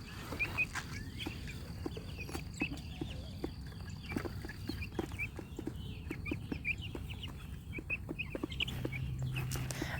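Meat chickens cluck repeatedly in a trampoline chicken tractor, a busy scatter of short, soft calls over a low outdoor background, with no talking.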